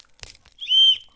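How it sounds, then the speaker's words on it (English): An emergency whistle on a key ring gives one short, loud, shrill blast, close by and steady, after some faint handling noise. "But I have a whistle."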